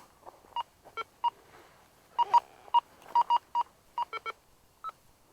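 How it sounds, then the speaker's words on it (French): A Go Find 40 metal detector gives a false signal, firing a burst of short, clear electronic beeps in irregular clusters, some doubled or tripled, loud and close with nothing else heard. "Non, faux signal"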